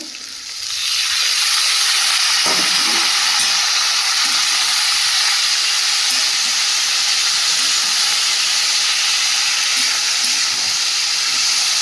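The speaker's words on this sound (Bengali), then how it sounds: "চিংড়িটা ভালোভাবে কষিয়ে নিয়েছি সেদ্ধ করে রাখা মোচাটা দিয়ে দেবো" Shrimp and boiled banana flower fry in a pan, a loud, steady sizzling hiss that rises within the first second and then holds unbroken and close.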